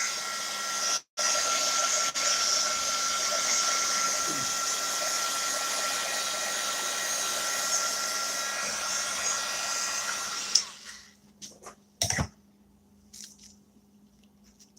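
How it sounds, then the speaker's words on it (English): A hot-air tool blows steadily over hot glue strings to melt them, a loud, continuous rushing hiss with a steady hum that shuts off partway through, leaving faint clicks and handling noises. "I'm going to blow this off for just a minute to melt the hot glue strings"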